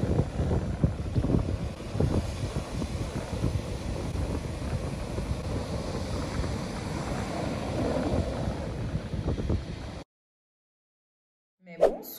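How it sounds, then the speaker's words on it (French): Steady wind buffets the microphone with a low rumbling roar, and waves wash faintly beneath it on the Algarve coast. It ends abruptly in near silence. "il y a un petit vent frais"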